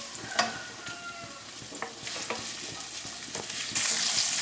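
Ginger, garlic and curry leaves fry in a pan with a soft continuous sizzle and scattered clicks and scrapes of a stirring spoon, growing a little louder toward the end, with no voices.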